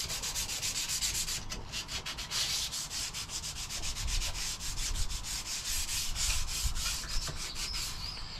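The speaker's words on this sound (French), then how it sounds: "Allez, petit coup de ponçage vite fait." Painted wooden boat surface being quickly hand-sanded, a continuous close, rapid back-and-forth scratching rub that keeps up steadily throughout, no voices.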